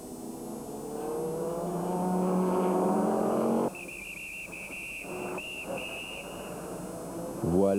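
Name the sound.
race cars at the 2001 24 Hours of Le Mans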